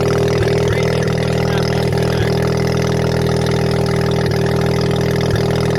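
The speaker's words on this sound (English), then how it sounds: "There's no air filter tube, the compressor surge is crazy, it's going hard." A 12A rotary engine with a blow-through carburettor turbo setup and no air filter tube runs loud and close, a steady buzzing drone broken by repeated short chuffs of compressor surge.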